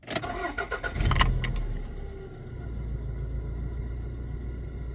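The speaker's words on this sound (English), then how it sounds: "Run the engine for 30 minutes." A first-generation Toyota RAV4 engine cranks and catches after a short burst of clatter, then settles into a low, steady idle close by.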